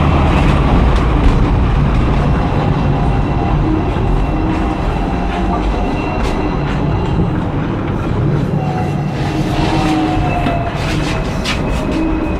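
Steady rumble of a tram or electric rail car in motion, loud and continuous, with rolling clatter and faint squeals throughout and no talk.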